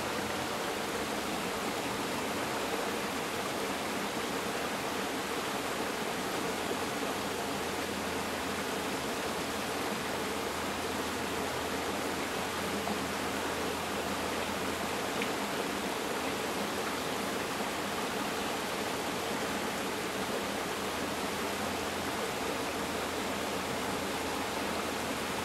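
Coldstream Creek, carrying foam, rushes past in March as a steady, even roar of flowing water, close and unbroken for the whole stretch, with no voices.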